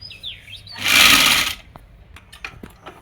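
A sewing machine stitching lace onto a Pakistani salwar makes one loud, fast, whirring burst lasting about half a second, followed by quieter ticks and handling sounds.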